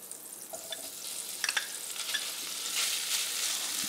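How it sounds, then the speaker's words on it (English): Hash frying in butter in a pan for a fried egg and hash sandwich, a soft steady sizzle with a few scraping stirs and small crackles, building into a stronger hiss toward the end. "we're going to start off with a little butter. Slop it around. Let's get some hash in here."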